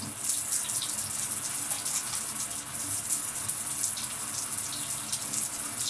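Running water from a tap streams steadily while gel is rinsed out of curly hair, a continuous, moderately loud hiss and splash with no speech.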